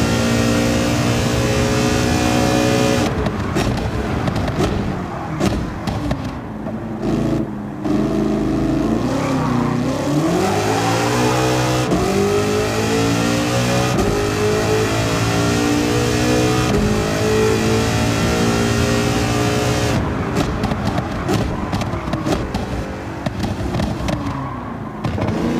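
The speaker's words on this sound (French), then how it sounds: "je vais vous refaire écouter un petit peu le son de cette voiture qui est vraiment insane en plus là avec l'échappement" Loud car engine revving repeatedly, rising and falling in pitch with throaty exhaust crackles and pops, continuous and close.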